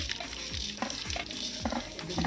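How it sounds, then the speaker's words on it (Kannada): Mustard seeds and cumin crackle and sizzle steadily in hot oil, with close stirring and scraping sounds over a continuous frying hiss. "ಎಣ್ಣೆ ಕಾಯ್ದಿದೆ ಸಾಸಿವೆ ಮತ್ತು ಜೀರಿಗೆ ಹಾಕ್ತಾ ಇದ್ದೀನಿ"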